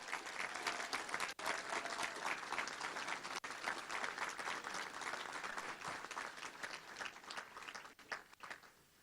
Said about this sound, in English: join me in giving Jim and Debbie Hood a round of applause for their service